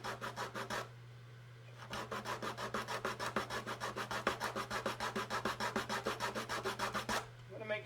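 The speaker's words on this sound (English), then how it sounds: "We are just sanding this until that pencil lead is gone." A viola bridge being sanded flat by hand, with steady back-and-forth rasping strokes in a quick regular rhythm, close and alone, broken by one short pause, over a faint constant hum.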